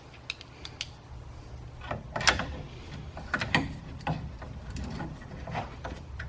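A ratchet tightens bolts on a Yakima OutPost HD heavy-duty truck bed rack, giving bursts of sharp mechanical clicks at an irregular pace, close and moderately loud, with no talking.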